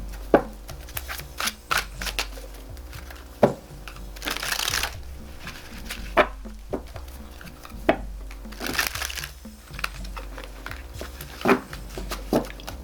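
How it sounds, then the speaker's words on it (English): Tarot cards are shuffled by hand nearby in repeated soft, papery riffles and slaps, with short bursts spread unevenly across the stretch. "Let's go pull some tarot cards"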